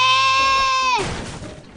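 A goat in the Goat Simulator video game lets out a loud, close bleat. It holds a steady, harmonic-rich tone for about a second, then breaks into a noisy, fading tail with no one talking over it.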